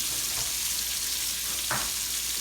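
Half a large onion, seasoned with Cavender Greek seasoning, fries in a pan with a steady close sizzle and one short stirring scrape, no talk.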